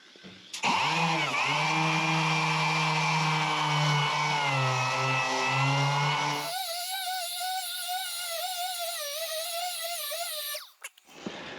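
An angle grinder works rust off a Ford XP Falcon body panel, running loud and steady close by, its pitch shifting higher about halfway through as the disc bites the panel edge, then winding down near the end.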